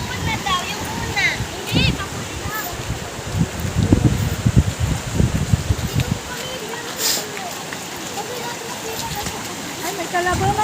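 Steady rushing of a strong-flowing river, broad and loud, with splashing and rustling nearby; voices are faintly present.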